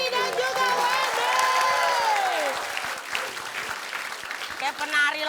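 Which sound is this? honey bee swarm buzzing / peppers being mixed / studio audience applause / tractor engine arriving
studio audience applause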